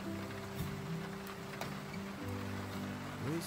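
Steady rain falling outdoors in a regional park, a soft continuous hiss with occasional brighter drop ticks, and a low tonal hum running underneath throughout.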